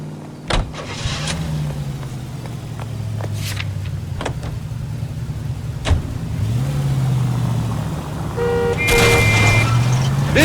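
Car engine in the 1947-set video game L.A. Noire, a moderate idle and revving hum with a few sharp clicks and knocks, rising into louder mechanical whirring and beeping tones near the end.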